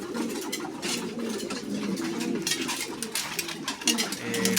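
Racing and fancy pigeons cooing in a loft, several birds giving overlapping soft throaty coos at close range, with faint background voices.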